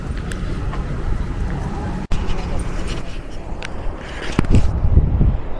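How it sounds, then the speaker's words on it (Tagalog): Loud wind buffeting a microphone on the way to a beach in Okinawa, producing a rumbling, rushing roar with a brief dropout partway through and a voice heard near the end. "medyo malakas yung hangin"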